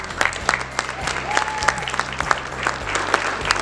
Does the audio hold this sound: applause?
yes